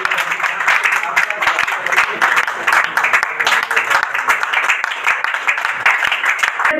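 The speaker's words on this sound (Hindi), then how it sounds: "लेकिन सभागार में तालियां सुनेंगी।" An audience at a poetry evening applauds in a large auditorium, with lively, dense clapping and sharp individual claps rising and falling throughout.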